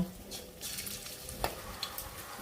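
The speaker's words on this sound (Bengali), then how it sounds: "একটা একটা করে তুলে তুলে দেব দিয়ে ভেজে নেব" Chicken pieces dropped one by one into hot oil, giving a soft, steady sizzle with a couple of brief splashy bursts, close but fairly quiet and with no talking.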